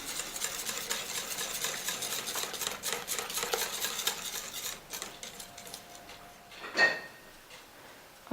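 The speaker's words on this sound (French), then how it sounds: "Vous mélangez." A spoon or whisk scrapes and clinks repeatedly in a bowl, stirring cake batter with flour, soft and close, with one sharper knock near the end.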